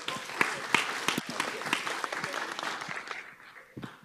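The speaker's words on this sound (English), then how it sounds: "Give a real big round of applause for Ron up here." An audience at an accessibility presentation gives a short burst of applause. The claps are dense and crisp at first, then thin out to a few scattered claps, with some faint voices underneath.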